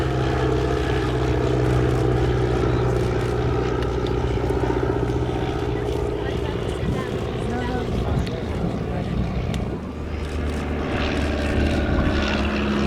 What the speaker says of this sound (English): The Taylorcraft Plus D became the Auster Mark I, which in 1942 entered service with number 651 Squadron.